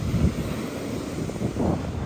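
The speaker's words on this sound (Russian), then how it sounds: "Ой, какие красивые волны." Sea waves wash onto a wild beach on Lombok, a soft low surge rising and falling twice, mixed with wind noise on the microphone.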